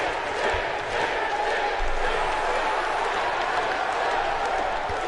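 Wrestling crowd in WWE 2K20 cheering for an icon, a steady dense roar of many voices across the whole stretch with occasional low thumps from ring action.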